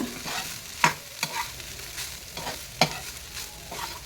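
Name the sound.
stirring cooked rice in a pan for capsicum egg rice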